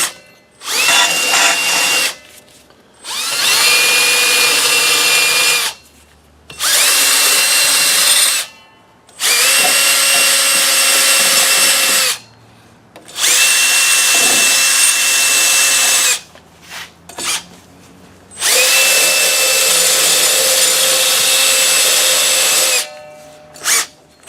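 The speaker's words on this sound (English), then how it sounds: "All right, I hit it with a little fiber disc." A power tool with a fiber disc grinds the surfaces of a 1998 Toyota Camry rear brake drum in five loud, close bursts of several seconds each, a high whirring abrasion with brief quiet pauses between runs.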